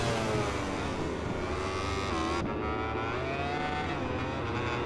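A simulated race car engine revs hard at the Jerez circuit in an esports racing game, a dense continuous high-pitched roar with shifting harmonics and a sharp gear change partway through, loud and without talk.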